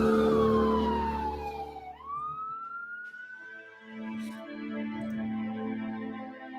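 Ambulance siren wailing at the Boston Marathon bombing scene on Boylston Street, a loud rising and falling electronic wail sweeping down and back up, close by, with street noise and no talk.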